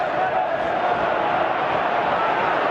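The Anfield football crowd roars steadily through the whole stretch, a dense continuous wash of cheering and chanting from a large stadium audience, with no clear individual voices standing out.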